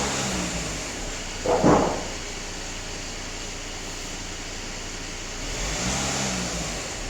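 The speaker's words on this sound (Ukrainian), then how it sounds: "Автомобіль сам підіймає оберти." A 2019 Audi Q5 2.0 TDI with a diesel particulate filter fault hums steadily at idle, then raises its own revs during an automatic filter check, with a brief knock partway through, heard close and moderately loud.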